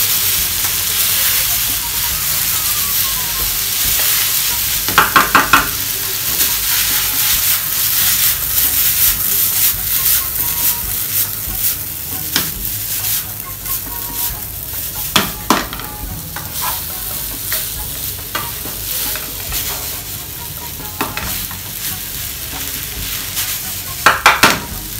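Coriander fried rice with chicken being stirred slowly in a pan, a steady soft sizzle with scraping and occasional louder clinks of utensil against the pan, close and continuous.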